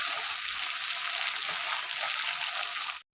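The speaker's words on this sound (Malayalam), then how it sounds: "ഈ വെള്ളവും നന്നായിട്ട് തിളച്ച് വരാൻ തുടങ്ങിയിട്ടുണ്ട്." A pot of water at a rolling boil gives a steady, close hiss of bubbling that cuts off abruptly at the end.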